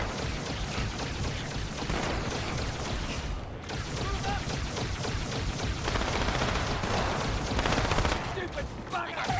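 Dense, continuous gunfire and turret fire in the Halo 2 video game, loud and relentless with overlapping bursts and booms throughout, voices faintly mixed into the battle noise.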